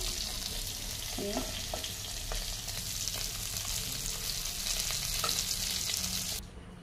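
Black and white mustard seeds fry in the small amount of oil left in a wok after frying small fish, making a continuous close sizzle with faint popping and stirring clicks until it quiets at the very end.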